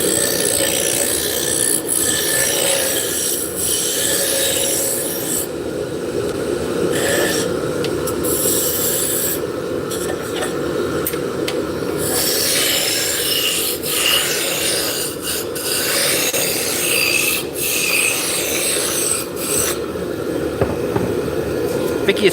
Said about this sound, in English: we're making shafts for Turkish spindle. So we're turning hard maple